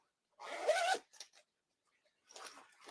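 The zipper on a knitting project bag is pulled in a quick, close rasping stroke, followed by a couple of short, softer zip tugs after a pause.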